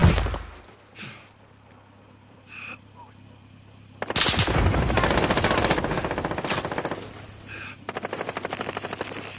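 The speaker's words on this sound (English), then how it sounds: "I was being shot" Bursts of automatic gunfire and heavy shots in the Call of Duty Warzone video game, loud and close, with rapid rattling volleys over a droning engine, broken by brief quieter gaps.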